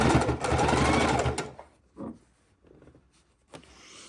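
A sewing machine stitches fabric for a soup bowl cozy, a fast rattling run of stitches that stops abruptly, followed by a few faint clicks and handling sounds.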